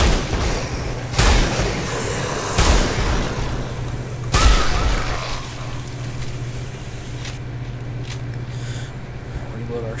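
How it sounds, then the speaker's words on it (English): Three heavy grenade-style blasts boom in a first-person shooter, Sin Episodes: Emergence, loud broadband bursts spaced a second or so apart over a steady low game hum, with a voice talking in the background. "throw a grenade in there this time"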